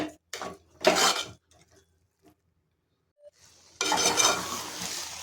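Pumpkin halwa with melted jaggery being stirred in a pan, a couple of short scraping strokes, then a pause of near quiet before a longer continuous stirring and bubbling resumes up close.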